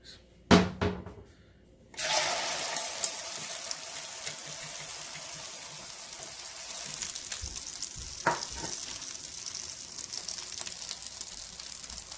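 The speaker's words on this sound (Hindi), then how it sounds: "the wooden spoon is sizzling, which means that तेल गरम हो चुका है" A wooden spoon dipped into hot oil in a skillet sets off a sudden, steady close sizzle after a short quiet start with a few knocks, crackling continuously on its own.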